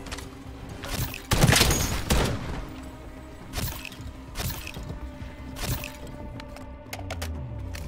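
Gunfire from a weapon in Call of Duty Modern Warfare Zombies, heard as scattered loud shot bursts with a dense volley early on and a few sharp cracks later, set among game ambience.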